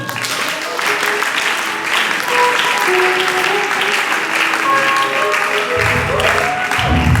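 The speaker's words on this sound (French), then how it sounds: "Est-ce qu'on peut acclamer le Seigneur?" A church congregation breaks into sustained applause in praise, a dense continuous clapping that fills the room at steady loudness, with some voices and a brief low rumble near the end.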